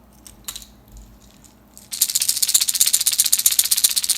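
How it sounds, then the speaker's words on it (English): A one-knocker lipless bass fishing crankbait is shaken after a near-silent start, giving a loud, steady run of fast rattling knocks that lasts about two seconds with nothing else over it. "One knocker."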